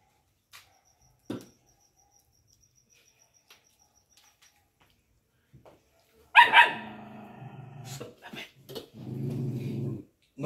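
A pet dog barks and growls in a home kitchen where Salvadoran tamales are being wrapped, a few sharp bursts after near silence with faint crickets, and a voice speaking briefly at the end.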